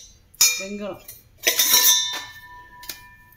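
Antique brass vessels clink and clatter as they are nested one inside another, giving a few sharp metallic knocks with ringing tones and a short rattling scrape, with a voice speaking nearby.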